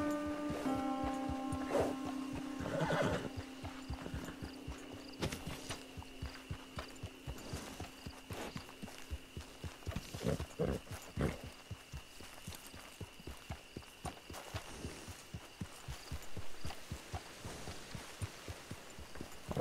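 Horses in the video game Red Dead Online clip-clop with a long run of rapid, uneven hoof knocks, and a tonal neigh-like call comes early on. Scattered louder thumps break through, with no talk.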